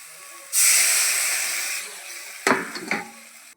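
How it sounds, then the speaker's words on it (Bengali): Water poured into a hot pan of sautéed spices bursts into a loud, close hiss that slowly fades, followed by a few stirring knocks as it bubbles. "একটু কষিয়ে নিয়ে জল দিয়ে দেবো।"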